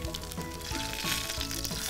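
Garlic frying in a pan sizzles steadily, a bright crackling hiss with small pops, close and fairly quiet, with no talking.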